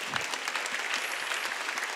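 Many worshippers applaud together in a church Sunday service, a continuous crackling roar of hand claps that stays level and full throughout.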